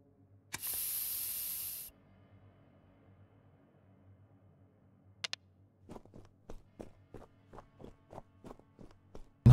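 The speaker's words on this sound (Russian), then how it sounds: "Тогда перцовым баллончиком воспользуйся." Pepper spray hisses in the police game This Is the Police 2, one loud sustained spray burst of about a second, then a short hiss and a run of rhythmic footsteps.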